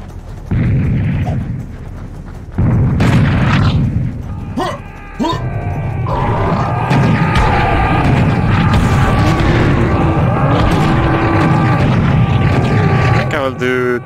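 Weapon fire and explosions in Serious Sam VR come as heavy booming blasts over a constant low rumble, with tonal game sounds in between and someone talking throughout.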